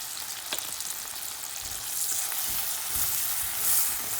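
Ginger paste sizzles in a hot pan for a Kerala fish curry, a constant bright hiss swelling slightly with a few soft low knocks from stirring.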